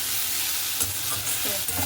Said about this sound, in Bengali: শাক ভাজা হয়ে গেছে নামিয়ে নেব বেশ ভালো ভাজা ভাজা হয়ে গেছে